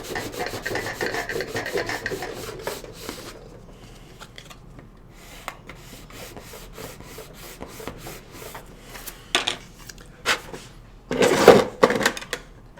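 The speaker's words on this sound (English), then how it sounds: "I'm just gonna sand this guy a little bit here." Someone hand-sands a piece with sandpaper in repeated raspy strokes, dense and busy at first, then sparser and intermittent, with a louder flurry of scraping toward the end.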